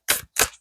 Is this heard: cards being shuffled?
yes